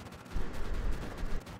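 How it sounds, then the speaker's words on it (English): Bursts of gunfire in the Call of Duty Modern Warfare Warzone battle royale video game crackle through a dull rumbling background, a few quick shots spread across a short stretch. "Do you hear gunfire?"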